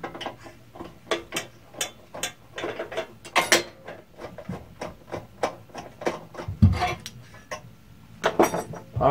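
Scroll saw foot being removed by hand, a run of small metallic clicks, taps and rattles of loosened parts at close range, fairly quiet with no voice.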